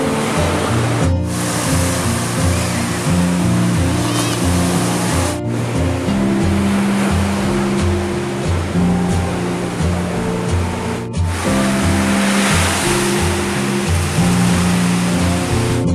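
Sea waves wash onto the beach at Pantai Salopi in a loud, steady roar of surf that continues throughout, broken only by a few brief cuts, with no voices.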